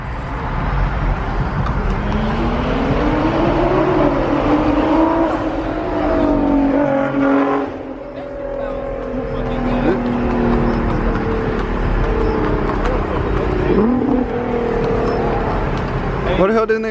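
A Nissan GT-R R35 at an exotic car meet in Atlanta revs and sweeps past nearby, its engine pitch rising and falling over steady crowd noise.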